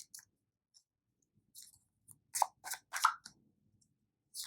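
Tarot cards being shuffled during a reading, a series of quiet crisp riffling snaps and slaps in short bursts, close up with no talking.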